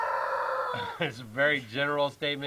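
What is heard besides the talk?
rooster crowing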